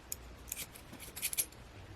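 Scissors snip through a hair braid in several quick, close, crisp cuts, alone without any talk.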